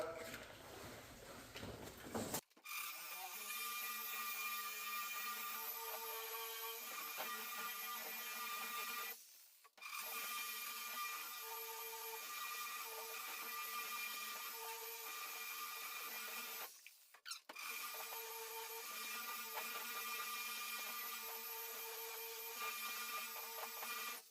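A rotary buffer with a wool pad whirs steadily against the paint of a 1964 Cadillac Sedan DeVille in long runs, stopping briefly twice before starting up again.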